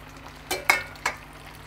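Chicken pieces for Chicken 65 dropping into a pan of reduced spicy sauce, giving three short, soft sizzling bursts over a quiet background.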